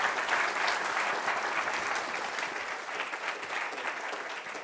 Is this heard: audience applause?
yes